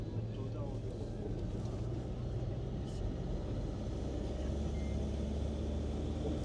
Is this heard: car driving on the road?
yes